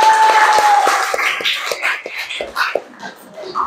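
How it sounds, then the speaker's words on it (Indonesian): A classroom of students applauds together, a loud burst of clapping at the start that thins into scattered claps and shuffling within a few seconds. "beri tepuk tangan buat kalian semua"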